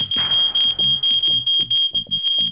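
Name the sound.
smoke alarm sounding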